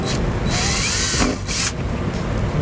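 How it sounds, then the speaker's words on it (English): A power drill bores through the plastic fascia of a 2009 Jeep Patriot, whirring loudly in two bursts separated by a short pause, up close with no talking. "I'll go ahead and drill the 2 holes."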